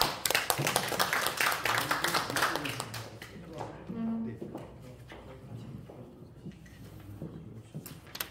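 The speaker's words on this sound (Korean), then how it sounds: "박수로 환영하겠습니다" At a theology workshop in a university hall, an audience claps to welcome a professor to the podium. Brisk applause lasts a few seconds, then thins out and fades as a voice begins speaking.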